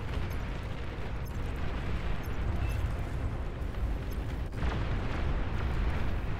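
Flak fire from a gunship in the video game Beyond All Reason, a dense continuous rumble of bursts and booms at steady loudness with no clear gaps.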